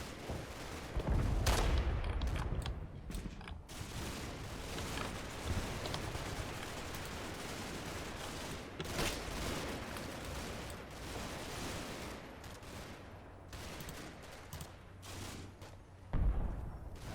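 Sporadic gunfire and distant booms from the wargame Combat Mission: Battle for Normandy, with scattered shots and heavier thuds over a continuous rumbling battle background.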